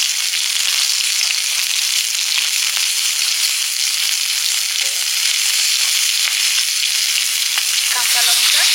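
Nigella seeds sizzle loudly in hot oil left from frying fish heads, a dense continuous crackling hiss that holds steady from start to finish.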